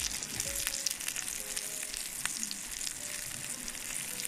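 Prawns frying in oil at an outdoor creekside barbecue, a moderate steady sizzle with faint crackles and a few soft clinks, close by and uninterrupted by speech.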